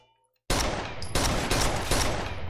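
Gunfire from the shooter Rainbow 6 Vegas 2, a loud burst erupting after a brief quiet and holding as dense continuous automatic fire with a few sharper peaks.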